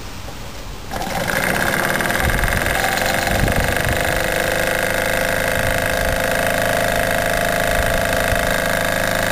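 A steam engine driving a stepper motor generator, its boiler at full pressure, starts up after a second and runs as a steady, loud mechanical whir with a rapid rhythmic chatter and no talking.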